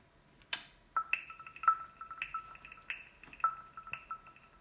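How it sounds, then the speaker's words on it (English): An Asus ROG Strix G15 gaming laptop sounds a chime as its ROG keystone is inserted: a bright sequence of clear electronic tones, several short pinging notes in a rhythmic pattern, close and clean against a quiet background. "when you insert the ROG keystone, it makes this nice cool sound"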